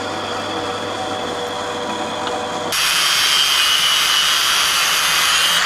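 A power tool grinds through a metal bolt, cutting off its head, a steady droning cut that abruptly shifts to a harsher, louder hiss partway through, during Mazda Miata engine swap fabrication.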